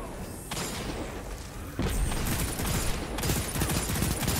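Bursts of hip-fired weapon shots in a Titanfall-style shooter, loud rapid volleys in two or three surges with heavier impacts, no clear talking over them.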